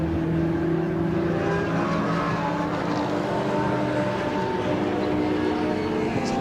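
TCR touring cars racing at the Silverstone Grand Prix circuit, a steady loud engine drone with sustained harmonic whine and no breaks, cars held at high revs throughout.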